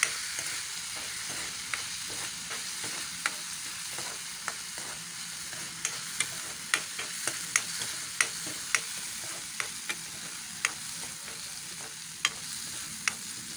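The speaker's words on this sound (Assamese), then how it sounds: "এতিয়া মই ডাইৰেক্ট এইখিনি তেলত ভাজি লৈছোঁ" Masoor dal fries in hot oil with a steady, close sizzle and crackle, broken by sharp scraping clicks from stirring. No one speaks.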